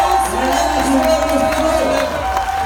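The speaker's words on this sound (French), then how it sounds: "Et debout, on s'applaudit." An audience at a conference in Castelmaurou cheers and whoops loudly, with some clapping mixed into the steady crowd roar that runs throughout.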